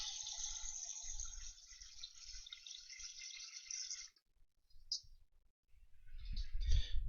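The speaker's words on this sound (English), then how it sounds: "I'm just going to fill up some water into a pan of sauce" Tap water runs into a saucepan in a home kitchen, a steady hissing stream for about four seconds that then cuts off, followed by a few faint clinks and a low knock.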